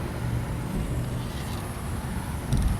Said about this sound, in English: we're driving off the lawn here, and here's a big curb now